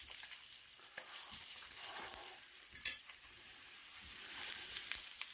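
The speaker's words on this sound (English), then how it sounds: "You're also using a metal utensil in a non-stick pan." Burritos frying in a non-stick pan that is too hot, stirred and scraped with a metal utensil; a continuous sizzle with intermittent scraping clicks, no talking.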